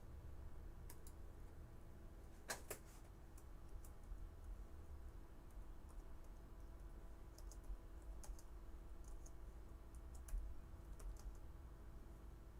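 Someone types on a computer keyboard while setting up a Dell Inspiron 17 3000 series laptop, producing sparse, irregular light key clicks, close but soft, over a steady low electrical hum.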